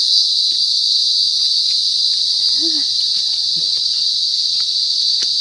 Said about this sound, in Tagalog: Medyo yung kuliglig.